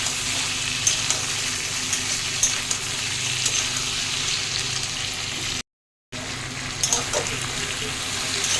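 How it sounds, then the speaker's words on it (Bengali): Potatoes and onions fry in salted oil with a constant close sizzle and spitting crackle, broken by a brief silent gap partway through; no one speaks. "পেঁয়াজ দিয়ে আলু দিয়ে ভালো করে নুন দিয়ে ভাজছি"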